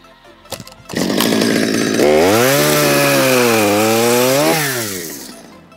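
A chainsaw revs up close and roars steadily as it cuts down through a log from above, pitch dipping under load before winding down.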